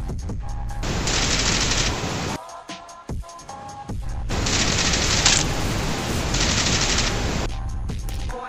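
Automatic gunfire rattles in the mobile battle royale game BGMI, with loud sustained bursts separated by short pauses and a few quieter gaps between volleys.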